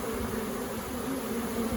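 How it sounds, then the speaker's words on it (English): A swarm of honeybees buzzes in a backyard around a lost queen, giving a dense, continuous drone from the mass of bees up close. "now she's in this mass of bees"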